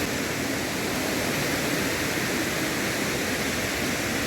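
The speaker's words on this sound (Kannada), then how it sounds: "ಇದು ನಮ್ಮ ಊರಲ್ಲೇ ಇರುವಂಥ ಫಾಲ್ಸ್ ಆಯಿತಾ" Chamadka Falls waterfall, a local cascade, gives a steady, dense rush of falling water, loud and unbroken throughout with no voices.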